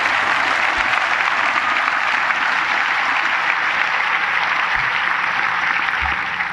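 A large audience applauds at the 1999 International Tennis Hall of Fame induction ceremony, a broad, even wash of clapping that holds steady throughout and fades slightly at the end, with occasional low thumps.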